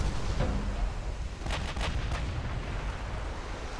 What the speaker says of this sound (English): There's an ammo detonation